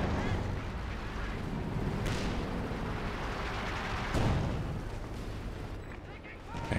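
A flak panzer fires at close range in Company of Heroes 2, booming bursts amid a dense battle din, with a commentator talking over it.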